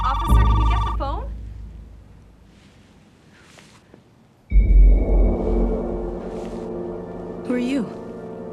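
A telephone rings in a short burst, falls silent, then rings again after a pause; a voice speaks under the second ring, with a few light footsteps nearby.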